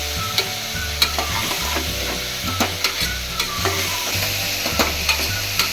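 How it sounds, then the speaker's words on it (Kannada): Vegetables and sprouted legumes fry in oil for sambar with a loud, continuous sizzle close by, broken by regular scraping stirs of a spoon against the pan. "ಎಣ್ಣೆಲಿ ಫ್ರೈ ಮಾಡ್ಕೋಬೇಕು. ಹಸಿ ವಾಸನೆ ಹೋಗೋವರೆಗೂ ಫ್ರೈ ಮಾಡ್ಕೋಬೇಕು."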